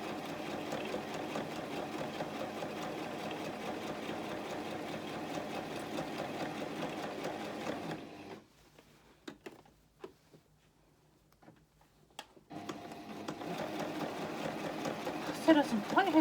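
A sewing machine stitches a rolled hem on a romper, sewing over pins in a steady close whirring run, pausing briefly in the middle with a few soft clicks, then starting up again, with a voice talking over it.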